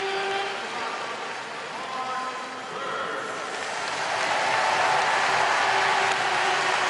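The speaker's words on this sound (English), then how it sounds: "The crowd are on their feet already." Steady roar of a stadium crowd on its feet before a 100m world-record final, broad and distant, swelling louder toward the end with scattered applause.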